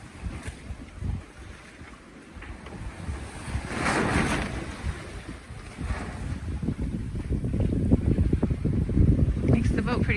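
Big rolling ocean swell around a sailboat running under a parasailor between Cascais and Albufeira, Portugal: a constant rushing wash of water and hull noise with gusty wind buffeting the microphone, building louder toward the end.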